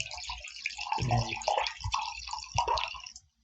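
A drink is poured into a glass close by, giving a few seconds of uneven splashing, gurgling and dripping that stops abruptly. No one speaks.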